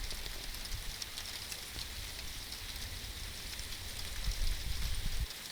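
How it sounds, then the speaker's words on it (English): Heavy rain falls steadily during an early-morning thunderstorm, a constant close hiss with dense drops spattering on surfaces and no voices. "So it's definitely raining heavier now."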